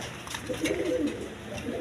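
Soft, low, rolling coos from a pair of desi coloured Rasgolla pigeons, red checker in colour, close by and continuous for a couple of seconds.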